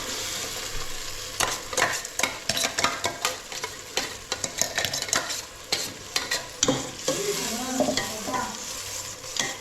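Onion and tomato puree frying in a pan for pav bhaji, with steady sizzling under repeated scraping strokes of a spoon stirring, close and continuous.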